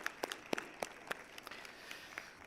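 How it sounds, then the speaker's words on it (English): Sparse, scattered handclaps from a conference audience at an international Islamic capital markets event, a few sharp claps standing out over a quiet hall and thinning out within a couple of seconds. "a big round of applause for TerraBiz and the whole team"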